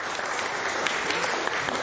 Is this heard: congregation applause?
yes